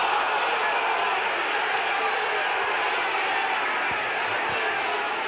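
A crowd at a Salford football match, a continuous, even wash of shouting and murmur heard from a distance, with a few faint thumps underneath.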